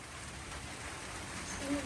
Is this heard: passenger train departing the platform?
no